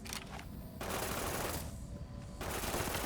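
Rapid bursts of nail gun fire in Fallout: New Vegas, loud dense repeating shots in two or three runs with brief gaps, close and continuous, no talk.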